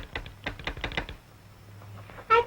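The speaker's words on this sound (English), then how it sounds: "It's the up and down movement of the bar that makes the clicking sound." A telegraph key with an electromagnet pulling its bar, giving a quick run of sharp, dry clicks, then a pause and a short ringing tap at the end.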